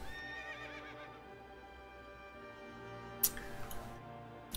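A horse in World of Warcraft gives a clear whinny near the start, followed by a steady clip-clop of hooves and another short burst of neighing later on, all heard without speech.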